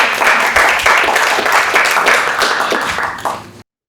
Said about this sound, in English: I'm not sure what the applause is about.